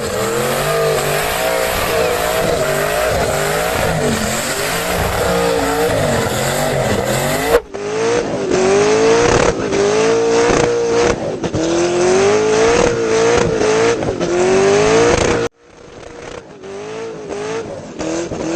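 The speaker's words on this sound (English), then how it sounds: "This is the craziest baby Zonda, a Mercedes V12 swapped 1 Series BMW." A Mercedes V12 swapped into a BMW 1 Series revs loudly and up close, its pitch rising and falling in sweeping surges across three back-to-back passages with abrupt cuts between them.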